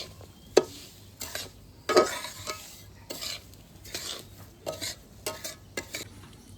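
A spoon stirring sheera, sweet semolina pudding, in a cooking pot, giving repeated scraping strokes against the metal at an irregular rhythm over a soft background sizzle, close and moderately loud with no talking.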